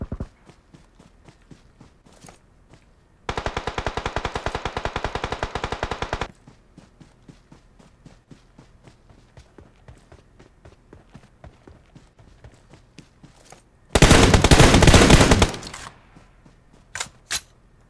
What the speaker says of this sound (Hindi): कौन कर रहा है फायरिंग भाई?